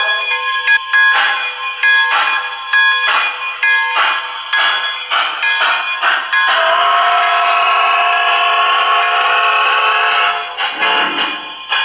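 An MTH PS3 model PRR G5s locomotive running in reverse gives a series of rhythmic steam chuffs, then a long sustained whistle-like tone near the end, all loud and close.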